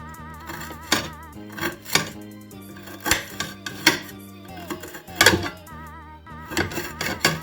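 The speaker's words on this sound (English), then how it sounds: "And I'm going to chop this." A knife chops food into small pieces on a cutting board in a home kitchen, sharp irregular knocks repeating close by, mixed with clinks of dishes and utensils and a background of music.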